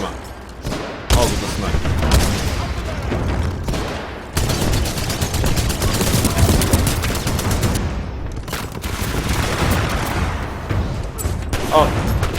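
Dense, loud gunfire and a grenade blast in the Titanfall 2 shooter game pound almost without pause, with rapid bursts that briefly cut out before resuming, over occasional talk.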